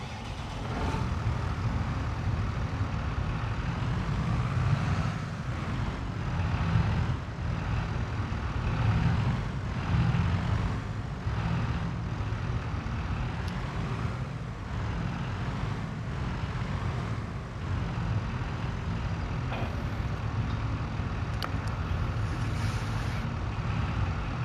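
Steady droning JCB tractor engine in the video game Farming Simulator 22, a continuous low mechanical hum holding at an even level throughout.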